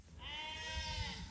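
A single drawn-out bleat from a hair sheep, a wavering nasal call lasting about a second, moderately close over a quiet farmyard background.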